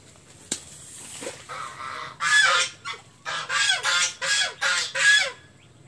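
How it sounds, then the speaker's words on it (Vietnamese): Ordinary white geese in a village honk loudly and close by, a run of six or seven harsh, evenly spaced calls after a few quieter notes. "Cái này chỉ là ngỗng trắng bình thường thôi."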